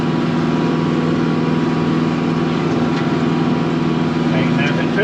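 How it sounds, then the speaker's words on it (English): A Kubota L6060 tractor pulling a Rhino TS10 brush cutter drones steadily at medium pitch, a constant engine hum with a few faint knocks near the end, and no voices over it. "Old tractor's handling it good."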